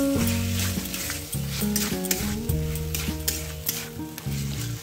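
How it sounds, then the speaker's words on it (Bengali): Potatoes, peas and spices fry together in a pan for a broccoli dish while being stirred, making a continuous close sizzle with repeated scraping strokes. Background music with sustained tones runs underneath. "সমস্ত কিছু উপকরণ ভালো করে আবারও নেড়ে নিচ্ছি।"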